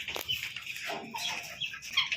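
Native country chickens clucking at feeding time on a farm, several short close clucks in quick succession against quiet background.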